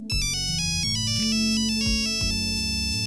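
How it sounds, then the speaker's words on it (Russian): A simple electronic beeping melody plays alone, clear tones stepping through a short tune, a monophonic Nokia mobile phone ringtone. "доступен широкий список рингтонов, состоящий из 35 монофонических мелодий"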